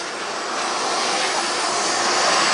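A Eurofighter model jet in grey Luftwaffe paint, powered by a KingTech K60G turbine, flies at a jet-model event. Its broad turbine whoosh roars steadily and grows slightly louder as it passes near.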